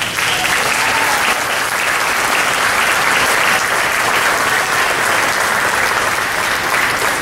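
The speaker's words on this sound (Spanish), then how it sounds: "Den un aplauso al Eterno." A church congregation bursts into loud, sustained applause during a pastor's sermon, many hands clapping together in a steady, even roar that holds for several seconds without talk over it.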